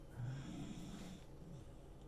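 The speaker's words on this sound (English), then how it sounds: "Yeah, the dog is snoring." A dog snoring indoors, a low rumbling breath that swells and fades over about two seconds, close and fairly quiet with no talk over it.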